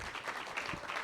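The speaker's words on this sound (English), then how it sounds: "let's give another round of applause for our two keynotes" An audience at a land-sea symposium applauding the keynote speakers, a brief burst of dense, even clapping from a crowd in a hall.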